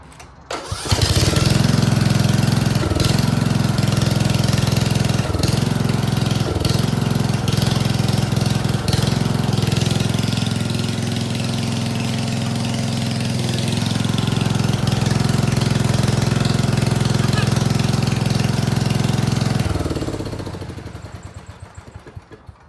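A Craftsman riding lawn mower engine cranks and catches, then runs at a loud, steady idle close by for about twenty seconds before shutting off, with no voices.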